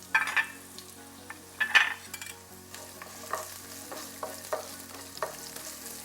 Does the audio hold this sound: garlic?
yes